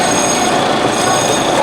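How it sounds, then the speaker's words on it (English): The Holidog Express amusement park train ride rolls along with a continuous loud clatter and a bright metallic wheel squeal, close and steady, with no talking. "welcome to Holidog Express. My name is David and I will be your train conductor"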